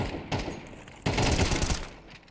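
Rapid bursts of automatic gunfire in a Counter-Strike match on the Anubis map, two loud clustered volleys of shots, the second longer and denser, with no talking.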